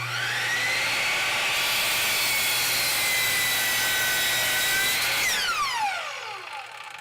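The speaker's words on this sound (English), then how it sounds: "And now here's a cut on a 2x6 with no dust collection on." A Bosch 12-inch glide miter saw cuts through a 2x6 board with no dust collection, a loud close screaming motor and blade bite held for about five seconds, then the blade winds down with a falling whine.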